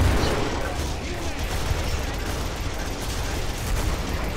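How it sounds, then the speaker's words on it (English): Chain gun in the video game Killing Floor firing continuously, a dense, loud, unbroken mechanical rattle of rapid shots filling the whole stretch. "Chain gun."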